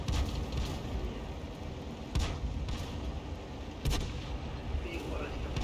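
Tank cannons boom in World of Tanks gameplay, with two or three heavy blasts over a dense, rumbling battle background.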